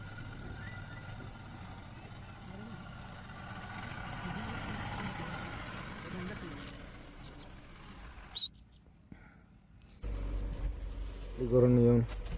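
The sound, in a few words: tractor engine running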